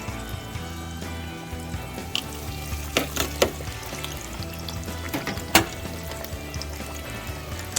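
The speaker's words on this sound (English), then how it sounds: "the breasts are frying up" Chicken breasts frying in hot oil for homemade fried chicken, a steady close sizzle and crackle with occasional sharper pops and spatters, no talking.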